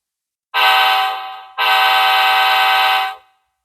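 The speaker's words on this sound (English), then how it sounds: "So there's a lot of reverb there," A model diesel locomotive horn from a sound decoder, set with heavy reverb, gives two loud sustained blasts, a shorter one then a longer one, each trailing off with an echoing tail into silence.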